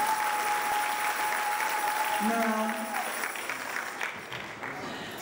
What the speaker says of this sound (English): A round of applause for that wonderful man.